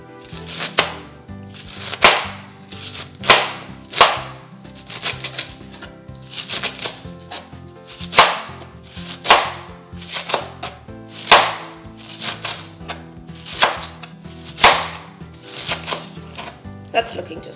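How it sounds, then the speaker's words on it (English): Crispy cabbage is finely chopped with a knife on a board, a close, crisp series of crunching strokes in uneven bursts of quick cuts, each landing with a sharp thud, without speech. "to the noodles, we're going to be adding some nice crispy cabbage, and we're going to finely chop it"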